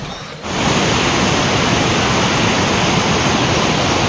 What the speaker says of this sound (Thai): นี่คือน้ำตก ตะเคียนทองที่มีความลึกที่มีความไกล